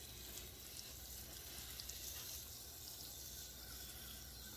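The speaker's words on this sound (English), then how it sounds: "while I'm watering the carrot bed" Steady hiss of water spraying onto a saturated carrot bed in a garden, a faint, continuous shower with no breaks or voices.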